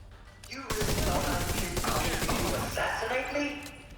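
Rapid gunfire bursts from a video game ring out loud and close, a dense sustained volley layered with other game effects during a stream.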